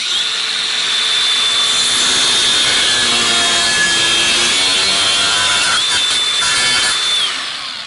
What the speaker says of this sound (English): I just use a grinder to square the edges up